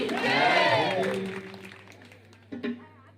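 Audience at a comedy Ramayana stage performance cheering and clapping loudly, the roar swelling then fading, with a short second burst near the end.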